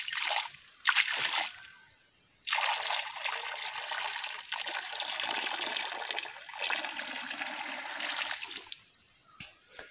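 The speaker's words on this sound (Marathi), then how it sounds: "चला पहिल्यांदा पाणी ओतून घेऊ याच्यामध्ये खड्ड्यामध्ये." Water poured out into a pit dug in the ground for birds to drink from, a couple of short splashes followed by a long, steady rushing pour that then stops, close by.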